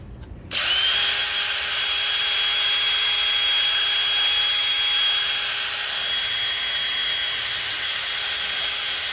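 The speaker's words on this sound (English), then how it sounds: "I'm going to use this wire brush I got out of that toolbox haul" A rotary wire brush on a power tool cleans old parts from a Schauer Model B4612 battery charger, spinning up abruptly into a loud, steady high-pitched whine that holds to the end.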